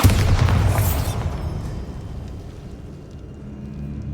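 A Bombarda spell detonates in Hogwarts Legacy with a loud, booming blast at the start, then a rumbling decay of debris and reverberation fading over several seconds.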